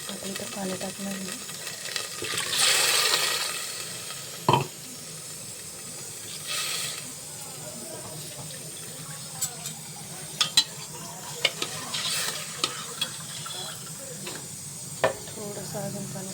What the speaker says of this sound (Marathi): बघा आता इथं पाणी टाकणार आहे.